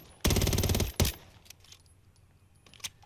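A gilded submachine gun from Modern Warfare III fires one rapid sustained burst of about three quarters of a second, then a brief second burst, followed by scattered faint clicks and impacts, loud and close with no voices.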